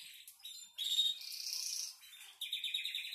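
A golden-yellow canary sings in a cage, a bright, close run of fast trills and high chirps with a short pause partway through, heard alone without talk.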